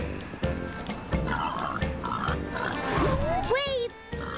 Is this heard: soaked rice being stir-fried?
no